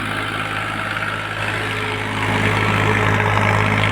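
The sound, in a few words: engine of an old Ford 3600 tractor idling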